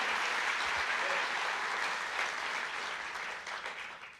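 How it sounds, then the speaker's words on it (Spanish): A church congregation applauds during a sermon, a steady wash of clapping that gradually tapers near the end. "yo de ti le aplaudiría más fuerte al Señor"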